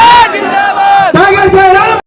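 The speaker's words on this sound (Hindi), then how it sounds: "जोरदार ताली और नारा लगाए, टाइगर जयराम महतो जिंदाबाद" A rally crowd for Tiger Jairam Mahto chants slogans, loud sustained shouting in two bursts with a brief break between them.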